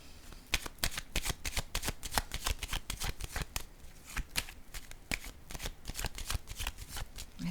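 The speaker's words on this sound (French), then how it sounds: "Je vais déposer une autre carte ici pour clarifier." Tarot cards shuffled and handled in a dense flurry of rapid riffling flicks and slaps, close and crisp, continuous with no voices.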